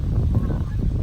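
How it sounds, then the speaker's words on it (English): Canada geese honk repeatedly in a dense, overlapping chorus from a nearby flock, loud and continuous throughout. "I'm spooking the geese around here."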